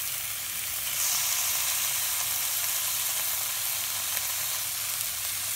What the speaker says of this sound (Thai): เราก็เอาหมูมาใส่เลยครับหมูสามชั้นครับหั่นบางหน่อยก็ได้ครับ